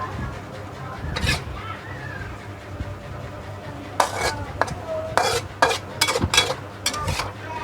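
Fried cabbage with pork is scooped onto a plate with a series of sharp metallic scrapes and clinks from utensil against pan and dish, irregular and close, mostly in the second half over a low background hum.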